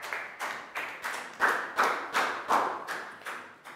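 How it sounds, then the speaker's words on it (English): A Year 3 class claps in unison for a student, a steady rhythmic series of about ten loud, together claps, each with a short ringing tail in the room. "Big round of applause for Pangpon."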